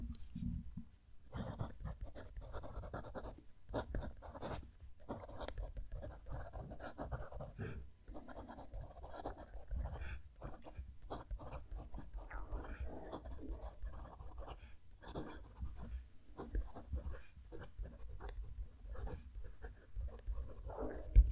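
A Winged Sun 630 piston-filling fountain pen's stiff nib scratches across paper in close, continuous strokes with short pauses between words, with no voices.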